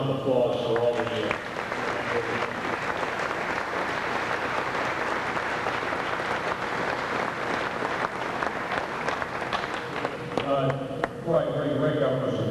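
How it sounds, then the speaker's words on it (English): An audience applauds at the 2001 Reading Athletic Hall of Fame ceremony, sustained dense clapping from a full hall filling nearly the whole stretch, with a speaking voice at the start and end. "How about a nice round of applause for all of you?"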